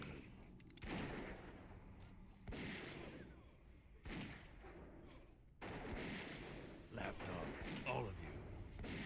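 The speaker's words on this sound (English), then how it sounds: "this thing's got some massive cannons on it" Massive cannons on a goblin-crewed vessel in World of Warcraft: Wrath of the Lich King boom in repeated heavy blasts roughly every two seconds, with rumbling tails and game sound effects and talk mixed in.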